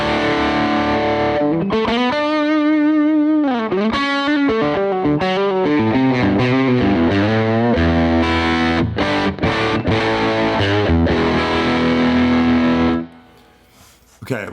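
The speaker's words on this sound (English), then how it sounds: "now let's add some of that fuzz to it" An electric guitar plays through a fuzz effect in AmpliTube 5, giving a thick distorted tone with bending lead notes and chords, loud and up close, then cutting off abruptly near the end.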